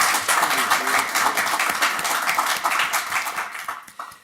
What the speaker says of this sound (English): We get a round of applause for our school board.